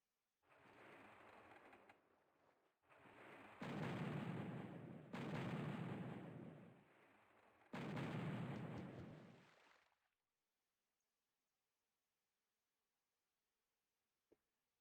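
Cannon shots in the pirate game Puzzle Pirates: several heavy booming blasts in sequence that fade into near silence, followed by one brief faint click.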